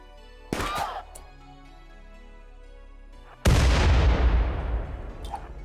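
Grenade explosions in the video game RimWorld: a sharp blast early on, then a much louder, heavier boom that rumbles and decays over several seconds, with no talk.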